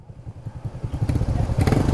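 A motorcycle engine chugs in rapid, regular low pulses and grows louder and rougher as it revs past a landslide on a narrow, debris-strewn road left after a typhoon, with some clattering over loose ground.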